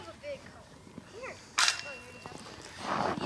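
Airsoft guns fired outdoors in snow at a trailer target, two sharp snapping shots about a second apart with a hissy burst trailing off, while people talk nearby.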